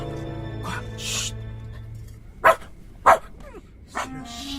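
A dog named Doudou barks several times, sharp, separate yaps spaced about half a second to a second apart over a steady background hum, with faint voiced sounds between them.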